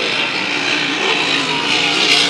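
A hydroplane race boat's engine roars continuously at full power during a race at Valleyfield, a loud, sustained high-pitched drone without a break.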